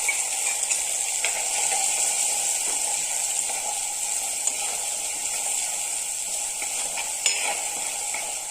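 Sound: sautéing ground spice paste in pan

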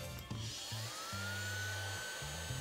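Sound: RYOBI 4V USB cordless Palm Vac handheld vacuum running

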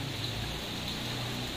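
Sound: rain falling in the afternoon in Pematang Siantar

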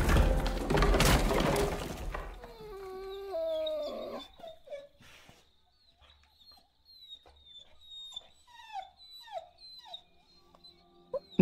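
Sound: dog from the video game Copycat

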